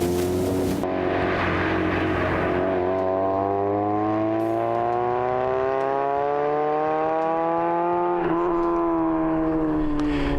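A small, lightweight drift car runs a slalom, its engine note climbing steadily in a long continuous rev, loud and close throughout, with a brief shift or stab near the end.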